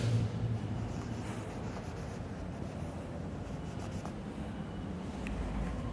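Marker or chalk scratches steadily across a classroom board in a run of continuous rubbing strokes, close and fairly loud, with no speech.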